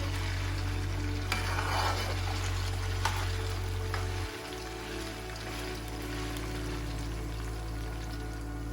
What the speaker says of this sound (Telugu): ఫ్లేమ్ని మీడియం ఫ్లేమ్లో పెట్టుకుని ముక్కలు ఎర్రగా అయ్యే వరకు వేయించుకోండి.